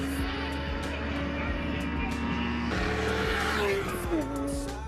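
Race cars running at full power on the Interlagos circuit during an open track session at the 500 km event, engines droning loudly and continuously with a pitch shift and tire squeal near the end.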